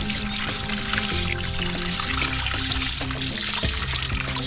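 Water pours and trickles steadily into a container, a continuous splashing flow heard up close for several seconds.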